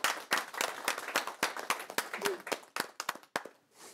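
Audience applause at a project launch presentation, fairly sparse with distinct individual claps sounding close, rhythmic and sharp, thinning out toward the end.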